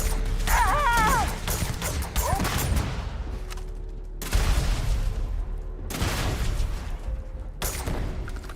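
Bursts of gunfire and crashing impacts from a firefight in the Starfield video game, coming in repeated loud volleys with short pauses between them and occasional distorted voices underneath.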